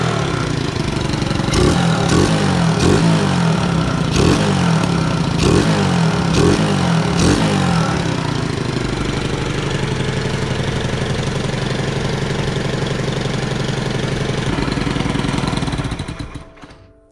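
A YCF 125 motorcycle engine fitted to a homemade drift kart runs up close with a leaking exhaust that has no gasket. It gives several sharp revs, settles into a steady loud idle, then cuts out abruptly.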